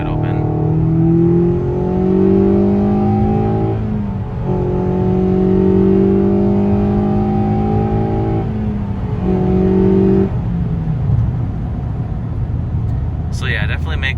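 A 2021 Toyota Corolla SE 2.0L fitted with an AEM cold air intake, accelerating at wide-open throttle on a slippery surface. Its close, loud engine note climbs steadily, drops at two gear changes and rises again, then settles to a lower hum.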